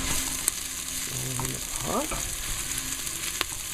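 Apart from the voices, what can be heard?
shallots sizzling in hot pan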